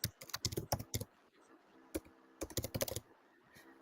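Someone types on a computer keyboard in quick bursts of crisp clicking keystrokes, with short pauses between flurries, close and clear with no talking.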